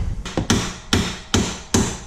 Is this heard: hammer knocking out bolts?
yes